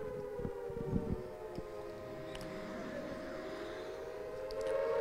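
Air raid siren wailing during an attack in Samba, Jammu, a steady rising tone heard from a distance with a few sharp knocks early on, fairly faint and swelling toward the end.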